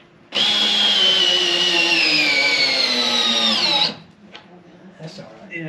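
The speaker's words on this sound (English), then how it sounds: "I gotta get a more powerful drill." Electric drill driving screws into a barn stall, a loud steady whine held for about three and a half seconds that slows slightly in pitch, then cuts off to quiet background.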